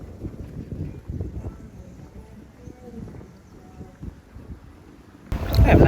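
Wind blows on a beach in Aruba, rumbling low against the microphone throughout and surging louder in a sudden gust at the end.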